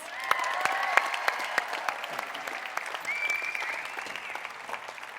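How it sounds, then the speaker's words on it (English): Crowd at a Monster Jam season kickoff gives a round of applause, sustained clapping with a few sharp claps standing out and scattered whistles and cheers. "Give them a round of applause, guys."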